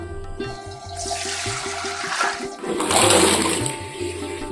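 Small wild gourds (mithukkangai) are swished and rinsed in a vessel of water, producing continuous close sloshing and splashing with a few louder surges.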